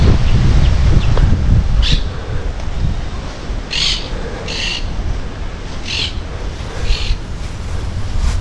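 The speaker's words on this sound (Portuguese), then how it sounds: "Começou um vento louco agora." Strong wind blows outdoors at an old rural ranch estate, a loud continuous rumble and rush buffeting the microphone, with faint higher chirps scattered through it.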